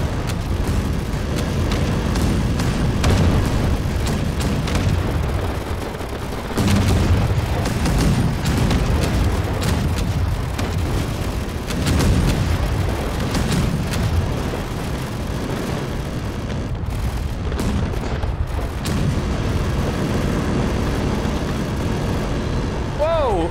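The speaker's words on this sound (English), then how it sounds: "Let's see if we can get some broadside shots here." Broadside weapon fire and explosions from a battleship in the Space Engineers space combat game, a dense, continuous barrage of booms and blasts running the whole time with speech over it.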